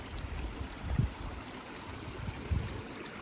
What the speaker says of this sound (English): I've got myself a little water crossing here